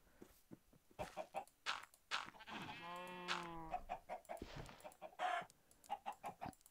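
Minecraft farm animals calling, a cow moo and a sheep bleat, short harmonic cries between soft game sounds, fairly quiet and close with no talk over them.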